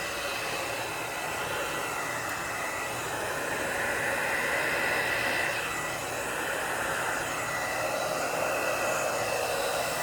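A hair dryer blows steadily across an acrylic paint pour, a continuous loud, breathy whoosh that shifts slightly in tone as it moves, lasting about ten seconds with no talking.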